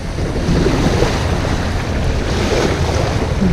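A sailing boat moves under both sails with its motor running off the coast of Tasmania, heard as a steady loud rush of wind, water and surf with a low rumble underneath.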